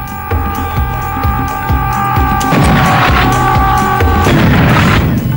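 Serious Sam 2 bomber enemy exploding, deep booming blasts and low rumbling throbs over a sustained in-game tone, a louder burst partway through followed by more rumbling, no talking.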